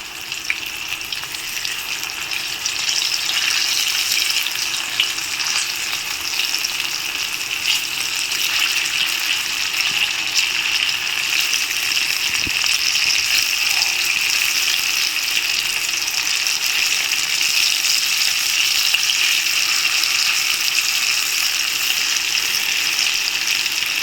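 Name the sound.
frying boiled banana-flower pieces in hot oil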